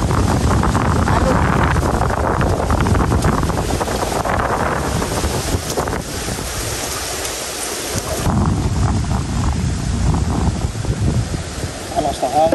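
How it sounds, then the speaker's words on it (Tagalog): Strong wind buffets a small fishing boat at sea in rough, choppy water with spray coming aboard, a loud steady roar of gusts and waves across the whole stretch, with voices talking intermittently beneath it. "Grabe, lakas po ng hangin."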